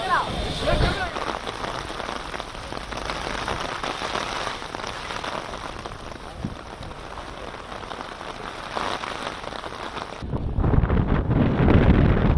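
Rain showers with gusty wind in Tirupati pour steadily as a dense, loud wash of rain on surfaces, with wind buffeting the microphone and a rougher gust near the end; no voices are heard.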